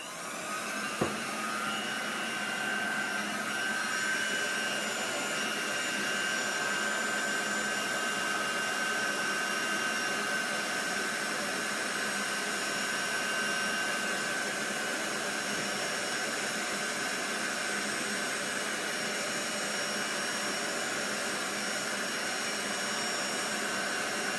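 Heat gun blowing on an inked tin mug, a steady loud whooshing roar with a faint high whine, running unbroken throughout with a single click near the start.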